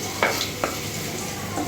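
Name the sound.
garlic sautéing in oil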